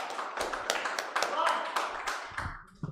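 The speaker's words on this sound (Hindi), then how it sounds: "एक बार जोरदार तालियों के साथ स्वागत कीजिए हमारे अभी फौजी का" An audience at a quiz show welcomes a contestant with continuous rapid clapping that runs throughout, with voices mixed in underneath.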